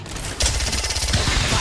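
Rapid automatic gunfire in the video game Apex Legends bursts in loudly after a short lead-in, a dense rattling volley sustained to the end with no talk over it.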